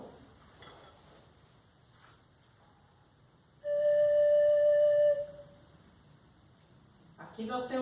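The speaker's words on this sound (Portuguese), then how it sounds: "Aqui nós temos o apito, é um apito indígena, ou uma flautinha indígena" A single steady, piercing note from an indigenous whistle flute holds for about a second and a half, alone in a quiet room, with faint rustling before and after.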